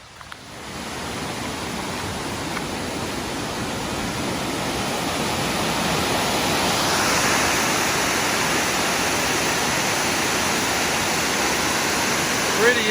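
Dip Falls, a waterfall about 40 metres high in Tasmania, roars as a broad, constant wash of falling water, swelling slightly as it nears and holding steady and loud with no break.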